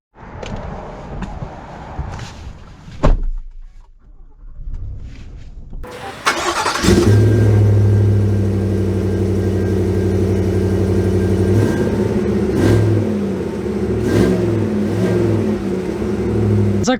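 A 2023 GMC Yukon XL AT4 starts: a few clicks and rustles, a pause, then the engine cranks and fires, settling into a loud, steady rumble as it pulls away.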